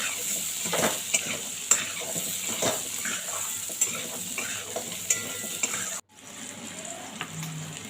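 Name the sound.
potatoes frying with salt and turmeric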